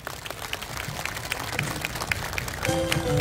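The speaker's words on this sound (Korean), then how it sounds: "우리 뜨거운 박수 한번 좀 부탁드리겠습니다" An audience at a Korean township residents' day open-air concert claps, starting as scattered applause and swelling toward the end, with a faint tonal sound entering near the close.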